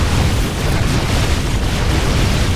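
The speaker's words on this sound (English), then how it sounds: "Oh, those Immortal cannons." Dense, continuous booming blasts of heavy cannon fire from Immortal units in StarCraft II, loud and rumbling throughout with no pauses, like rapid explosions in a battle.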